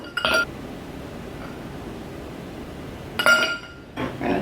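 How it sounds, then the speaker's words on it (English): Ice cubes dropped into a cup for a watermelon lemonade cocktail give a few bright glassy clinks, a short cluster near the start and another louder burst later, with a quieter rattle at the end and no talking. "pop some of these ice cubes in there ahead of time."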